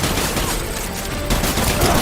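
Rapid, continuous gunfire in the video game Death Stranding, a dense crackling barrage of shotgun blasts that stays loud and close for the whole stretch, with no clear gaps.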